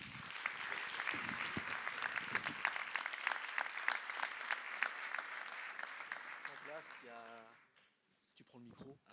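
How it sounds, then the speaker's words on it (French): An audience applauds a guest sommelier at a French talk event, with sustained, crisp clapping that fades out near the end as a voice begins speaking close to the microphone. "Et je vous demande d'applaudir Monsieur Olivier Poussier."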